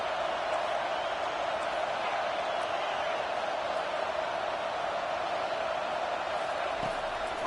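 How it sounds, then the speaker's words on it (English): A big football stadium crowd roars steadily in support of the home defense, a dense, sustained wall of cheering that holds at full volume from start to finish. "Listen to this crowd just shaking the girders of this place trying to help their defense"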